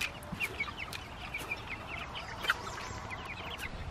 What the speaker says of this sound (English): There's one little chicken up on the hay feeder.